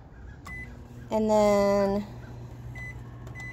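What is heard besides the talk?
microwave oven keypad beeps while setting timer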